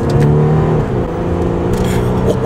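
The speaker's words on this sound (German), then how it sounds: "Motor läuft sehr, sehr ruhig." An Audi A6 engine runs smoothly on the road, a steady low hum with a faint rise in pitch as it gathers speed, heard from inside the car at constant loudness.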